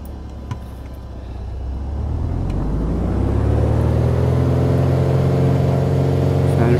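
Light aircraft engine in Microsoft Flight Simulator 2020 powering up through a takeoff roll, a steady low droning hum that swells in loudness over the first few seconds and then holds, with no talking.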